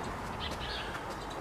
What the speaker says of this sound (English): I've got some birds now starting to nest in the nesting boxes under my summer house